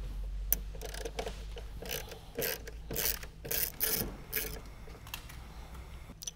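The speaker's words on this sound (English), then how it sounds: "for this, we'll use our socket and ratchet. This is 8mm." A socket ratchet clicks while turning an 8mm bolt on a BMW headlight, a quiet, close series of short ratcheting bursts in an uneven rhythm with a low steady hum beneath.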